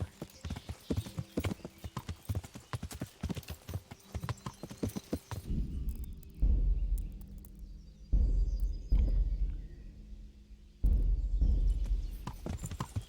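In Kingdom Come: Deliverance, a horse's hooves clatter rapidly and loudly at first, then give way to a few heavy thuds and rumbling impacts with brief pauses between them.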